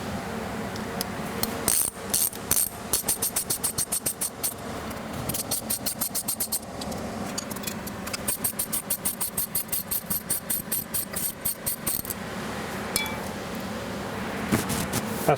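A Kearney & Trecker Model 2H horizontal milling machine runs after a rapid traverse clutch repair, giving a steady mechanical hum with a fast, regular train of metallic clicks and clinks, close and continuous.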